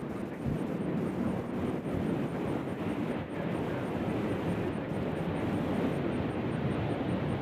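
At Nashville airport an Alaska Airlines jet comes in to land with a continuous, fairly faint rumbling roar, accompanied by a faint steady ticking.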